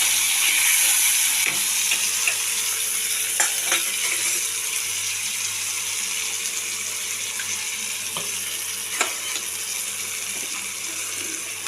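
Ginger and spices sautéing in a hot pan for a pointed gourd dish, a continuous bright sizzle close by with a few light utensil taps; no voices.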